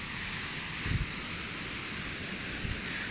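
Rushing water from Braemar Hill waterfall in Hong Kong, a constant, soft broadband hiss of falling water heard from a distance, with a couple of brief low bumps nearby and no talking.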